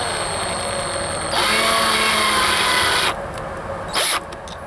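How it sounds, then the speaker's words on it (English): A powered screwdriver drives a long screw through a Ring doorbell wedge. There is a nearby rising motor whine for about two seconds, a pause, then a short final burst. "I got it in there most of the way with the powered screwdriver"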